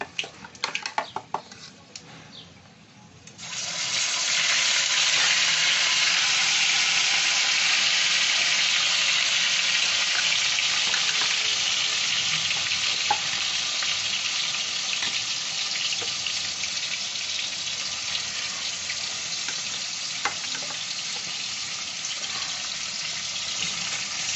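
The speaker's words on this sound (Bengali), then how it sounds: "এখন আমি এই ম্যারিনেট করা চিকেনটা দিয়ে দেবো।" Marinated chicken hits hot oil in a pan for chicken reshmi curry, and after a quiet few seconds a loud, continuous sizzling hiss breaks out and holds steady to the end.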